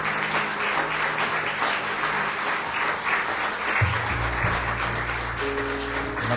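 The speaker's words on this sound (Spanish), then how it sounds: "Damos un aplauso al Señor" A church congregation claps together at the close of a Spanish-language evangelical sermon, with steady, dense applause filling the room throughout and a low sustained tone entering partway through.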